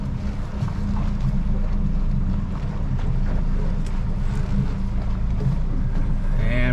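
A boat engine idles low in forward gear at about 800 rpm, a steady rumbling drone heard close with wind buffeting over it.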